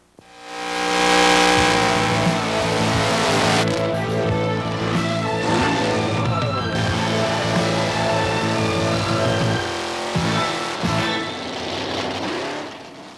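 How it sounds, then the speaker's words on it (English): A 1962 Pontiac Catalina with a 421 Super Duty V8 built as a drag strip car roars loudly and continuously, its engine revving with shifting pitch and rumbling harmonics, close by and alone without talk. "we're going to be showing you Rick Johnson's 1962 421 SD Pontiac Catalina"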